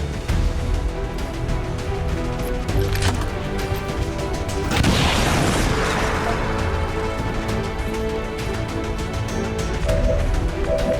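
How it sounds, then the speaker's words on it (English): A grenade is thrown and explodes in XCOM 2 during a haven assault, with a sharp crash and boom midway through, its debris rattling and decaying over several seconds amid combat sound effects. "Throwing grenade."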